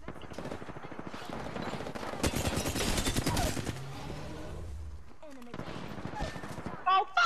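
Rapid automatic gunfire in the battle royale game Apex Legends: rattling volleys build to a dense, loud barrage, then ease into scattered shots, with a voice briefly audible near the end.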